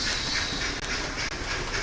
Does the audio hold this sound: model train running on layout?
yes